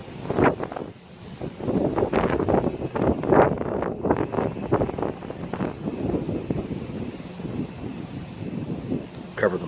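Wind gusts across open grassland, buffeting the microphone with loud, continuous low rumbling bursts that rise and fall in irregular waves for the whole stretch.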